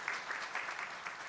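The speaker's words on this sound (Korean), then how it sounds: "큰 박수 부탁드리겠습니다." Congregation applause in a Korean Presbyterian church during a Sunday morning service's officer installation, a steady wash of many hands clapping with small swells, filling the room at a moderate level.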